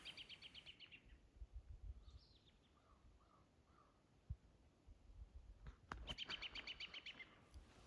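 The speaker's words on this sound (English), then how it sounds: "That's the sound of the Canadian robin, also known as the American robin" An American robin's bright warbling song in short repeated phrases, fairly faint against a low outdoor rumble on a homestead, with a pause in the middle before the singing resumes.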